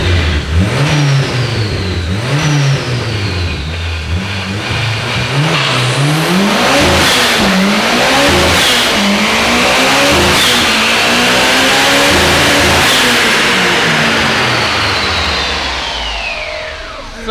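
A Nissan S15 engine revs hard on a dyno, climbing and falling repeatedly, then holds at high RPM bouncing off a soft rev limiter with a fluttering stutter; loud and close throughout, no talking.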